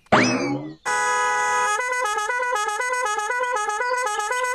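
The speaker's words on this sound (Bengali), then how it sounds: "ওদিকে হর্ন বাজি বাজি আমাদের মাথাটা খারাপ করে দিচ্ছে" Cartoon vehicle horns blare in a loud, repeating stepped pattern of pitched honks, preceded by a brief rising boing-like sweep.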